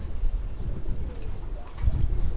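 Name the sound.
pigeons in a home loft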